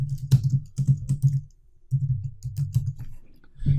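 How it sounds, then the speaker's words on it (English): Computer keyboard keys click in two quick bursts of typing separated by a brief pause, close and fairly quiet. "So let's go and type in Harry Kremlin."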